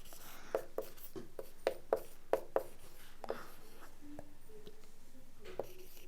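Chalk or marker writing on a board, a string of short tapping strokes in an uneven rhythm, fairly quiet and close, with no talk.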